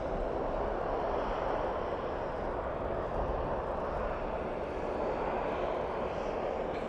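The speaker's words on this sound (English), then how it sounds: "Another propeller plane, wow." A propeller plane arriving at Dallas/Fort Worth airport at night, a steady broadband engine roar at moderate distance holding evenly through seven seconds, no voices.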